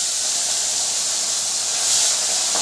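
Fish rubbed with salt and turmeric frying in hot oil in a wok, a loud, steady close-up hiss of sizzling that swells briefly near the end, with no talk.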